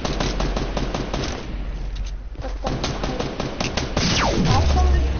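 Rapid automatic gunfire rattles in a video game, several close bursts of shots with a short pause in the middle, ending with a descending whistling sound and a low boom.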